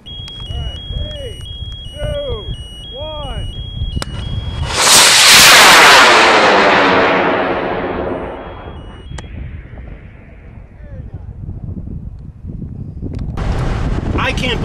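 Amateur rocket launching in the desert: after a few beeps, a sudden roaring whoosh swells and fades as the rocket climbs away, with wind buffeting the microphone and voices around it.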